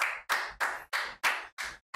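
Seven loud, crisp hand claps in an even, slightly slow rhythm, close up, with brief silences between them.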